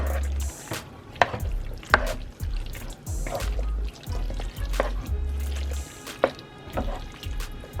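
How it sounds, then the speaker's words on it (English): Hamburger casserole ingredients are stirred together in a pot, a spoon scraping and squelching through the thick mixture in repeated wet strokes with soft knocks against the pot, close and steady. "we're gonna stir all of this in together"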